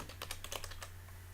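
Quick bursts of keystrokes on a computer keyboard while entering answer choices into an online mock test, a close, steady clatter of about seven taps over a low hum.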